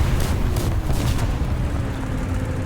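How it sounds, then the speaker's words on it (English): Artillery shells bursting in the War Thunder tank game, a dense rumbling barrage of booms rolling continuously, loud and close with no pauses. "Artillery's dropping, I need to move."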